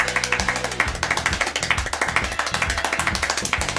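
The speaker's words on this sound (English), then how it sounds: "This man is the fastest clapper, being able to do 14 claps per second." Extremely rapid hand clapping by a man, a dense, even train of sharp claps at about fourteen per second, close and continuous throughout.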